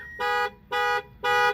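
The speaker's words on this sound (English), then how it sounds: "That's the factory alarm." A factory-installed car alarm sounds in three evenly spaced, loud, buzzy tonal blasts with short silent gaps between them, close and alone with no talk.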